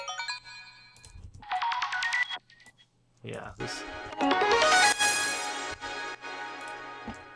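Bright, glassy bell tones ringing out in rising sampled runs, with a short spoken word near the start.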